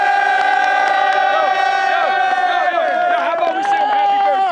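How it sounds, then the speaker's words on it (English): Crowd of fellas roars with loud, sustained cheering and shouting for a birthday welcome, many voices overlapping close by in a dense, excited wall of yells rather than distinct clapping. "Can we get a big loud clapping and a welcome for Jay."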